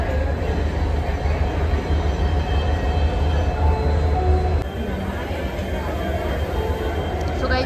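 A crowded local train at Pune railway station, a loud continuous rumble of carriages and wheels on the rails with a slight shift in tone partway through, as people talk amid the din.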